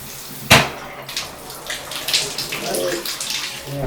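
Water runs from a bathtub faucet with a sharp knock near the start, then a continuous splashing flow with small clunks as the tap is worked.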